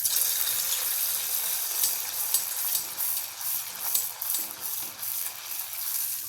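A piece of alu vadi fried in hot oil in a kadhai sizzles with a steady, close hiss of bubbling oil and faint crackles throughout, with no talk.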